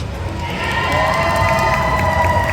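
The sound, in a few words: audience cheering and applause at cosplay contest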